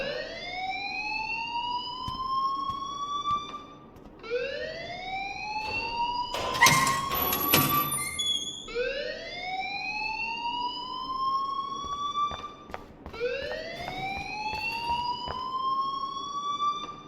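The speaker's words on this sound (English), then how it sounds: "please turn off that alarm since that's your job" An alarm rings in the video game Life is Strange, a loud repeating tone that sweeps upward in pitch about every three seconds, with a brief burst of clatter partway through.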